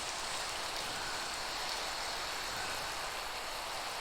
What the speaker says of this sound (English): Hooray, rain.